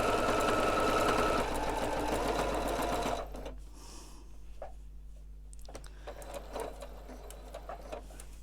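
Sewing machine stitching a Christmas stocking panel, a steady fast whirring hum for about three seconds before stopping, followed by quieter fabric handling and small clicks as the presser foot is adjusted.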